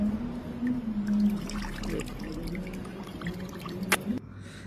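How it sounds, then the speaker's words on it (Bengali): Coconut water poured into a mixer jar already holding avocado and banana for a banana shake, a steady close trickle lasting several seconds before it stops abruptly. "এখানে যেই কোকোনাট ওয়াটারটা বের করেছিলাম সেটা মিক্সিতে ঢেলে দিচ্ছি"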